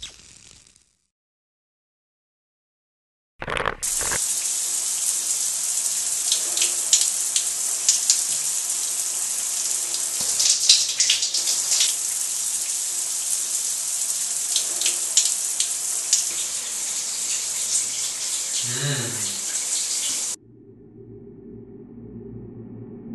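Shower water running steadily to wash off homemade fake blood, a loud, continuous hiss of spray that starts abruptly after a short silence and cuts off near the end, leaving only a faint low hum.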